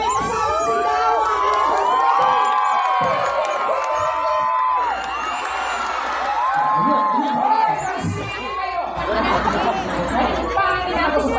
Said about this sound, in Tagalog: magpalakpakan mo na may kasama sigawan!